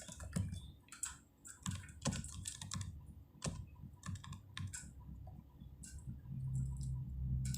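Typing on a computer keyboard while filling in an annual income tax return form: quick, close key taps in uneven bursts with short pauses, fairly quiet and heard alone.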